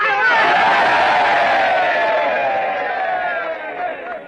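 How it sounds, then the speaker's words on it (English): A loud crowd of men raising a rousing cheer and whoops for a little lady in a Western town, the shout swelling at once and fading slowly over several seconds. "A cheer for the little lady."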